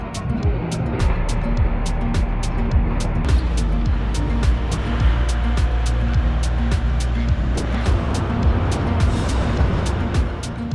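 Steady engine rumble and road noise from riding in the open back of a truck near Banos, Ecuador, with bikes loaded aboard; the drone stays loud and continuous, with sharp regular clicks or rattles over it.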